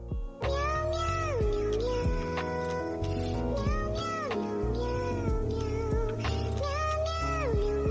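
A cat meows over and over in the background of a relaxed farm and crafting game, each call a drawn-out, wavering cry. The calls come in a steady series and ring clear and loud against a constant low hum.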